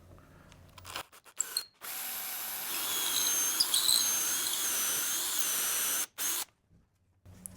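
A power drill bores a hole into a wooden guitar neck, a steady whirring grind lasting several seconds between short bursts and quiet gaps, close and fairly loud.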